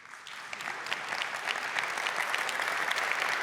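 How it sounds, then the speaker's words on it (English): A large crowd at a Microsoft Build keynote breaks into applause that starts fairly soft and swells into a dense, sustained round of clapping, heard at moderate distance. "we wondered what would get the applause"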